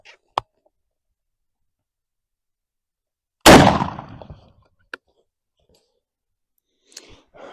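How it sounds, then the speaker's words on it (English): A single loud blast from a 12-gauge Winchester SX4 shotgun firing a bismuth load, with a sharp crack trailing into a short decaying rumble outdoors, preceded and followed by faint clicks. "This is a bismuth load. I'm really excited to see how this shoots compared to the steel. Let's throw it in the shotgun,"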